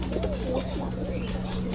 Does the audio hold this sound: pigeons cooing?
yes